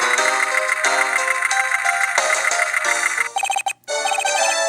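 A cell phone rings in the Nintendo DS game Miles Edgeworth Ace Attorney Investigations, a loud repeating electronic melody with regular pulses, briefly cut off near the end before resuming.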